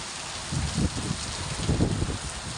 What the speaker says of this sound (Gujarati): વરસાદ ચાલુ થઈ ચૂક્યો છે